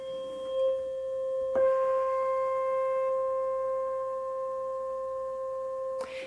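A tuning fork held for pain relief rings with a steady, pure sustained tone and a faint overtone, struck again around 1.6 seconds and once more near the end, clear and close with no talking.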